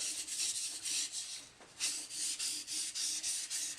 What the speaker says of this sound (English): I'm pushing that bevel flat on the stone here and running it back and forth